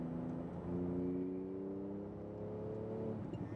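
A Porsche 911 GT2 RS engine pulls hard on a track course, a steady, loud droning note with rising harmonics as it accelerates, close and continuous, with no talk over it.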